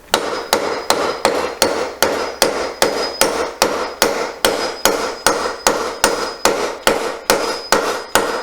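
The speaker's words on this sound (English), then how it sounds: "When the wedge is fully seated, you can tell the change in the sound." Steady hammer blows drive a wooden wedge into a mortise and tenon joint, about twenty sharp, evenly spaced knocks that ring with a faint metallic tone. They are close and loud, with no talk.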